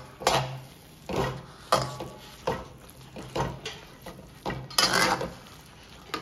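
Cooked vegetable curry with coriander leaves being mixed in a pan, a series of distinct scraping clanks from a spoon against the metal, roughly one every half second to second, close and fairly loud with no voices.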